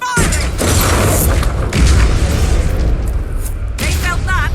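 A trebuchet fires in Dragon Age Inquisition, a loud deep boom and heavy thudding rumble that fills the clip over battle noise, with a brief voice near the end.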